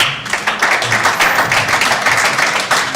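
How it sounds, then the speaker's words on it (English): An audience at a World Cancer Day celebration gives a short burst of brisk, close applause, many hands clapping in a dense, even patter for a few seconds. "Round of applause, please."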